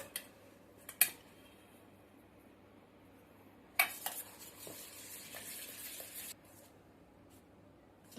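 Spoon mixing icing sugar in a bowl for eggless Goan Easter eggs, a couple of sharp clinks against the bowl and a stretch of soft scraping stirring, close but quiet, with no talking.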